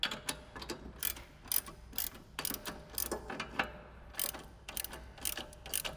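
A ratchet tightens 18 millimeter bolts on an S197 during a body roll part installation, giving repeated bursts of sharp, close clicking in uneven strokes with short pauses between them.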